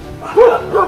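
A dog gives a couple of short, close yips or barks in quick succession, fairly loud against a quiet background.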